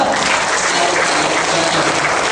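Seminar audience applauding at a motivational talk, loud, dense clapping from a crowd close by, unbroken and even from start to finish.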